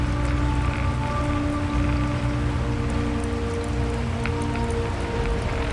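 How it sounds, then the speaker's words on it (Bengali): Steady rain falls on surfaces in the dark, an even, continuous patter of drops close by, with a low hum running beneath and no voices. "অন্ধকারের মধ্যে কিছু বোঝা যায় না, শুধু বৃষ্টির ফোঁটা পড়ে।"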